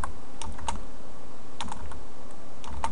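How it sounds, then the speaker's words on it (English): Someone types code on a computer keyboard, giving clear close keystrokes in small irregular clusters with pauses between, and no one speaks. "I'm just going to go ahead and type in convert"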